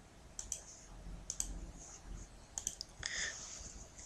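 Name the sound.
mouse clicking on the computer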